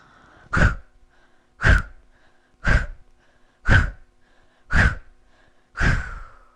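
Six deep, forceful breaths in a purifying breathing exercise, each a sharp rushing exhale spaced about a second apart and heard up close, with quiet pauses between them and no talking.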